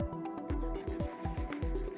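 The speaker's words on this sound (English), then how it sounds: "And I'm just going to keep on stirring." A stick stirs water into acrylic pouring paint in a cup, making soft, wet squishing strokes in a steady repeating rhythm, close and quiet.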